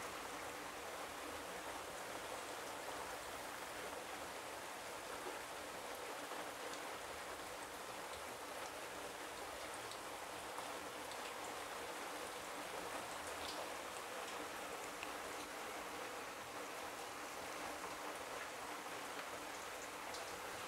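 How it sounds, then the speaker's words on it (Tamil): Heavy rain pours steadily in a dense, even hiss of drops on surfaces, continuous and fairly quiet, with no voices. "மழை நல்லா ஸ்பீடாக பெய்ய ஆரம்பிச்சிருச்சு."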